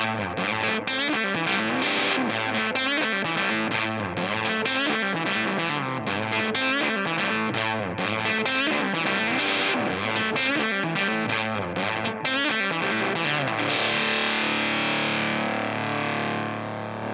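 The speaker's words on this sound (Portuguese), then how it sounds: "Pro outro riff da introdução, o riff da Les Paul, eu usei ao contrário," A distorted Les Paul electric guitar riff played in reverse through a Console Preamp pedal, swelling, dense and loud throughout with smeared, backward-sounding chords and no voices.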